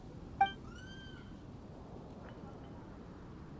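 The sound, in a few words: cat Paisley meowing in video game Genshin Impact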